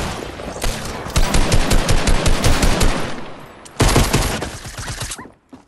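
Rapid gunfire from a Fortnite match rattles in dense automatic bursts, loud and close, with a short pause before a second burst and a final lone shot.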